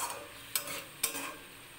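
Stirring a vegetarian pea and potato ghugni curry in a pan, with two sharp scrapes of the spoon over a soft, continuous sizzle.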